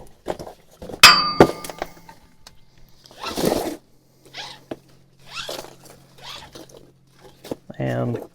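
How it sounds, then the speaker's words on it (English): Metallic clanks and a rattling ratchet release as a strap comes off a vehicle after rear shock skid plates are installed, with scraping handling noises between bursts. "And so I'm ready to take off this strap."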